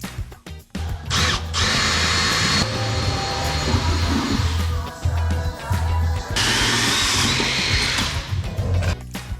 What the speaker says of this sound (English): After locating and drilling the correct size holes on the trailer